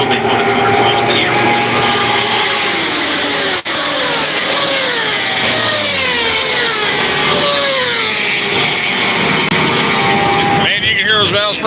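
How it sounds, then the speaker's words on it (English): Racing motorcycles at the Daytona 200, loud high-revving engines whining up and down through the gears as bikes pass close by, with one bike's valve springs audibly strained, continuous and dominating throughout. "Valve Springs crying on that one bike."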